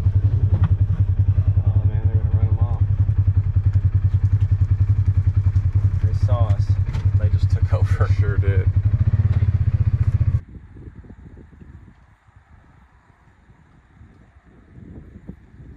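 An ATV engine idles with a loud, steady low chugging throb near a bison herd, under clattering and a voice, then cuts off abruptly, leaving quieter wind and outdoor rustle.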